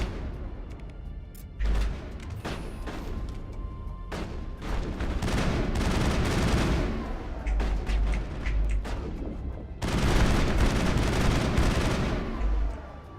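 Mass Effect firefight: repeated bursts of weapon fire rattle and boom in clusters, with brief lulls between heavy volleys that swell loud toward the end.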